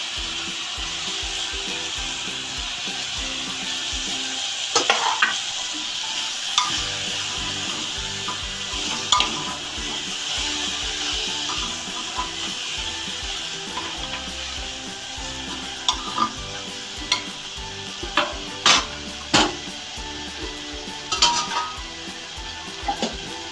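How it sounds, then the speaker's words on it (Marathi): Rice for khichdi sizzles and fries in a pan, with steady scraping and stirring from a spoon over a constant hiss and scattered sharp ticks and clacks. "तांदूळ आहेत ना याच्यातच परतून घ्यायचे"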